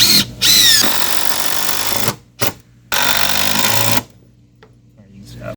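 A power drill drives screws into pool deck boards in loud, close bursts of whining motor and grinding, broken by short pauses, with a quieter tail at the end.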